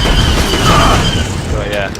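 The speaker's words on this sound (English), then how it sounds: "Grenade!" A grenade blast in the Star Wars Battlefront video game on the Mos Eisley map: a loud, dense rumbling boom that fills the whole two seconds, with a voice shouting over it.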